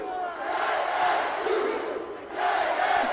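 A basketball arena crowd roars in unison at a K-State game, led by head coach Jerome Tang standing on the scorer's table, loud massed yelling in two surges with a brief dip between.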